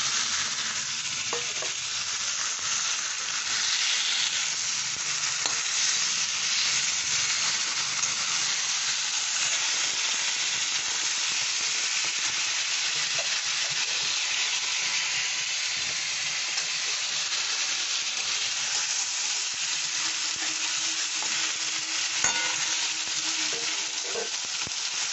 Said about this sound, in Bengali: এবার আমি মাখা চিকেনটা দিয়ে দেবো।